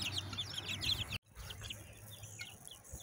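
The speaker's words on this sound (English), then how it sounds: "Look at all those baby chicks." Baby chicks peep in quick, high chirps close by as they walk over a dog's paws on a homestead, with a brief drop to silence partway before the peeping resumes.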